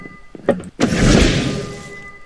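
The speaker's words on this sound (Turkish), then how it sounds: "kapıyı kırdım" A door is broken in a Minecraft-style video game: a few soft knocks lead to one sharp, loud crack, followed by a rushing, crumbling noise that fades.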